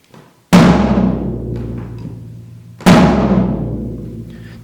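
Two loud, close strikes on a tom drum from a drum kit, tuned one round tighter, each hit ringing out with a long resonant decay before the next.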